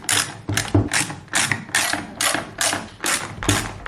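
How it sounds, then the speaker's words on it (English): A ratchet driver clicks steadily while backing out T20 bolts from the interior trim of a BMW M340i, giving a fast, even series of close, crisp pawl ticks with no talk. "So we've got T20 bolts again across here. We're going to remove them and take this off."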